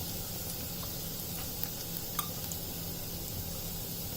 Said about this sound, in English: I'll not fry the green chilli much so that it retains its flavor